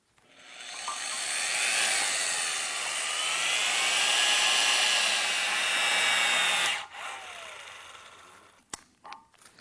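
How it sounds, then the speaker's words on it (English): A pneumatic impact gun set at 450 foot-pounds tightens a structural bolt, a loud sustained high-pitched air-tool whine running for about seven seconds before cutting off, followed by a few faint clicks and handling noises. "we're going to take our gun, still set at the 450 foot-pounds, hold my finger on the trigger"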